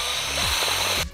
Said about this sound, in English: you're just circling the drill around because you don't have a big enough drill bit like I'm doing now